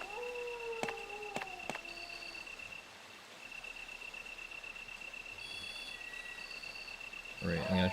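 Dogs howl in Resident Evil on the PS1, several long wavering cries overlapping near the start and then fading, with sparse game effects, tonal beeps and a sharp noise near the end.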